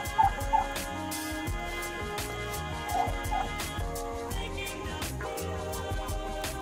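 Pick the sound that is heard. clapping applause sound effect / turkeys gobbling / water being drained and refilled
turkeys gobbling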